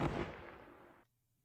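An M55 Quad 50 anti-aircraft machine gun fires in a Vietnam War game battle at Hue City, a loud dense rattling burst of close gunfire lasting about a second before cutting off to near silence.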